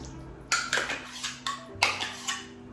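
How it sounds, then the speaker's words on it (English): A utensil stirs pumpkin puree batter with brown sugar, maple syrup, melted coconut oil and vanilla in a bowl. About six sharp, close clinks and scrapes against the bowl come in an uneven rhythm. "and then we stir."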